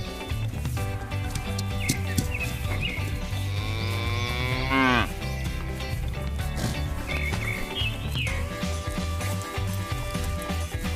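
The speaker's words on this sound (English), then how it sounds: "let's bring our lovely dairy cows home to their new farm" Cattle moo loudly in a lively farm scene, several drawn-out calls over a steady backdrop of music-like tones, with no talking.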